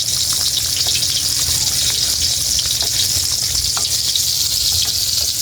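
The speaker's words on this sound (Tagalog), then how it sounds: "Haluin na po natin." Mung bean stew (ginisang monggo) sizzling and simmering in a pan while being stirred, a steady bubbling, frying hiss with faint scraping, no talk.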